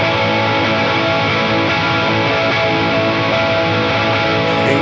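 Electric guitar strummed in big sustained chords for a worship song, a dense, continuous distorted wash held loud and steady without any voice.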